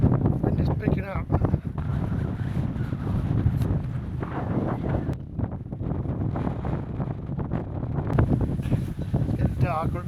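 Wind blows outdoors on a riverside hike along the River Severn, steady buffeting rumble across the microphone throughout, with voices talking at times beneath the gusts.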